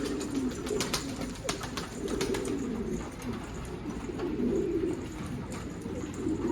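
Many pigeons cooing together in a coop in a low, continuous murmur, close by, with scattered sharp clicks and flutters over the top.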